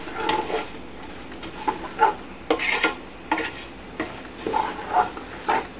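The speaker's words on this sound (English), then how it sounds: "So now we'll give this a good stir" Kaniwa, quinoa and amaranth grains stirred with garlic in a cooking pot for a Peruvian pilaf, giving repeated close scraping and shuffling strokes in an uneven rhythm, with no talking.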